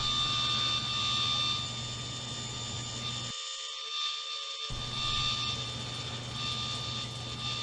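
A wood lathe spins a walnut and maple brick-style vase as the outside is shaped, giving a steady, even whine and hum that drops out briefly midway before resuming.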